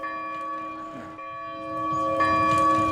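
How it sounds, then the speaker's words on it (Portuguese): A church bell in a small village tolls with sustained, ringing tones that overlap and linger, struck again partway through so the resonance swells louder toward the end. "Essa igreja que nós estamos vendo o sino tocar foi uma das obras do seu anjo"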